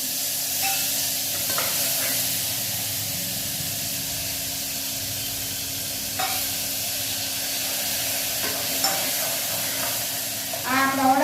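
A tempering for a chutney sizzles in hot oil with a continuous frying hiss and a few stirring scrapes and clinks, fairly close and even throughout.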